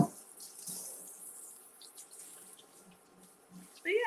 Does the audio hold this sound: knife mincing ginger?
no